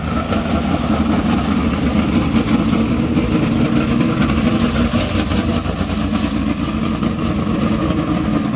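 A modified race car engine at a go-kart track drones continuously at close range, holding a steady, loud mid-pitched roar without clear revving peaks.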